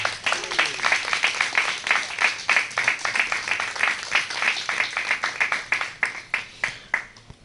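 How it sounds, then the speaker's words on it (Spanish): Congregation applauding during a Spanish-language Torah portion teaching, a dense run of hand claps that thins into a few scattered final claps, fairly close and with no talk over it. "Vamos a darle un aplauso al que vive y reina."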